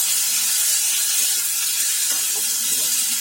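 Chopped tomato hits a hot pan of frying potatoes, giving a steady loud hiss and sizzle close up, with a faint stirring clatter partway through.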